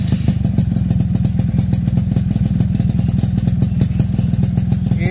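Suzuki Tornado motorcycle idling through a stainless steel racing exhaust: a close, steady, loud low burble with rapid even pulses and a faint metallic ring, no talk.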